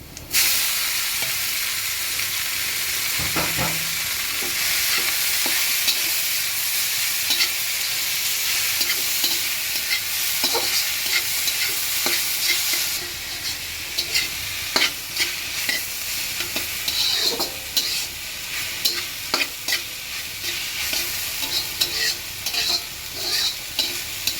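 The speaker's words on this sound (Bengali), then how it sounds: "রসুন পেঁয়াজ আর কাঁচামরিচ ভালোভাবে একটু ভেজে নেব।" Garlic, onion and green chillies fry in a pan with a loud, continuous sizzle and hiss. Steady scraping stirs join in and grow more frequent in the second half.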